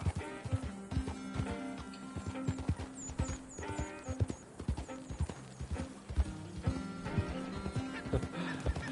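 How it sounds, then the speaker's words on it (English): Rhythmic clip-clop of horse hooves galloping in Red Dead Redemption 2, quick repeated thuds over background music, with a faint whinny. "I don't know what I've killed more with my horse's hooves, bunny rabbits or fish."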